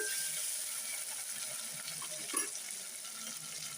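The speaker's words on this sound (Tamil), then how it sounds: "நல்லா வெங்காயம் வதங்கிட்டுருக்கு" Small onions sautéing in a pan for mango drumstick sambar, a steady soft sizzle and hiss running throughout, close and fairly quiet, with a brief clink near the end.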